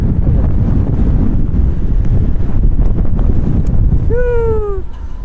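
Strong seaside wind buffets the microphone in a loud, continuous rumble at the Plopsaland amusement park, and a cat's meow rises briefly near the end.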